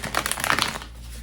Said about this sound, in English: I'm going to shuffle this Strength deck card back in.